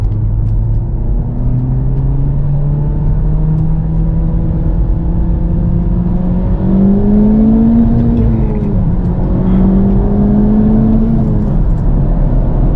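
An E85-fueled Infiniti G37 accelerates hard in second gear while racing a Type R Civic, its engine note climbing steadily and loud under heavy, constant in-cabin road rumble.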